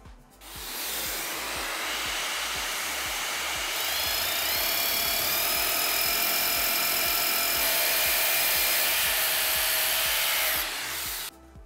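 A loud, high-pitched power drill whines steadily, biting into concrete with a rough grinding edge, running continuously for about ten seconds before stopping.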